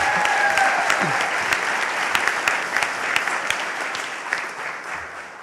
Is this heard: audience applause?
yes